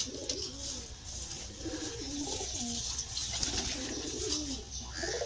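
Several pigeons coo in a low, rolling chorus nearby, set against a steady hiss of falling rain.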